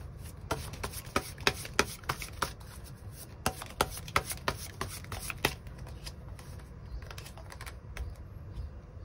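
Tarot cards are shuffled and drawn. Soft riffling, quick flicks and sharp slaps of cards come close and at a moderate level, with clusters of snaps early on that ease into quieter handling.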